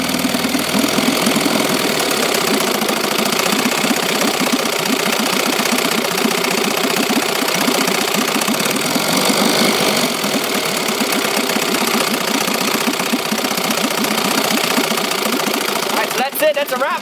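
A 1963 Evinrude Fisherman 5.5 outboard motor runs steadily in gear, a close, loud, continuous mid-pitched drone with a fast knocking pulse throughout, ending with a brief clatter near the end.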